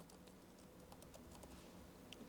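Typing a name on a computer keyboard, a steady patter of light key clicks at an even pace, close and quiet over a low background hum, with no voices.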